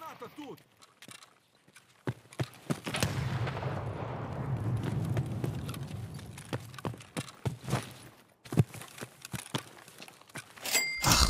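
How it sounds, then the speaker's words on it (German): An explosion in a first-person video game rings out loud and close, trailed by a long rumbling decay, then scattered sharp in-game impacts and clatter, with a player talking over parts of it. "Granate."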